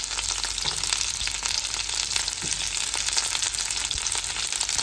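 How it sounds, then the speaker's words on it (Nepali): Garlic and onion fry in a pan with a steady, dense sizzle that runs unbroken throughout, with a few soft stirring knocks and no voices. "लसुन अलिकति रातो रातो भइसकेपछि प्याज हालिदिने"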